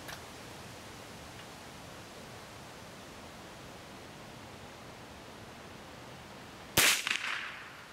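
After several seconds of steady hiss, a single arrow fired at a target strikes with one loud, sharp crack near the end, trailing off quickly.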